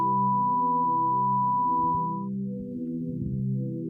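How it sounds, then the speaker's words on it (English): A basic sine wave oscillator plays a steady pure tone for about two seconds over a sustained low synth drone, which continues alone to the end. "a nice visual of a basic sine wave oscillator."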